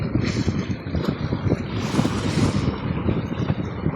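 Strong wind buffets the microphone on the Oman coast during a fishing outing, a loud, gusty roar that rises and falls continuously with no clear talk.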